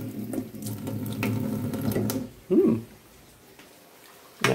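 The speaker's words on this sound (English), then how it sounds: "Add some water to it." Tap water running into a pot or sink while pasta cooks in a home kitchen, a steady near rush that stops abruptly, followed by a brief clatter and quieter room sound.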